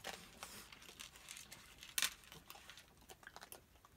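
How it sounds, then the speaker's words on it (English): Raccoons eat dry cat food outdoors, giving scattered close crunches and crackly bites, one sharper snap in the middle, with no voices. "You could hear them crunch, crunch,"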